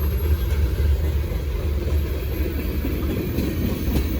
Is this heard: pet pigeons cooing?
no